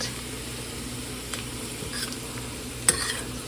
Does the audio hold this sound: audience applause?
no